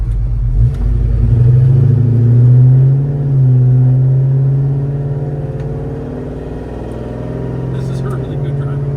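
A 1968 Chevrolet Chevelle Malibu V8 engine pulls away under load, a steady low rumble that swells and eases as the car drives, with someone talking over it throughout.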